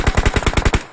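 Rapid machine gun fire in the PUBG battle royale game, about nine sharp, evenly spaced shots in a quick burst that stops abruptly, loud and close.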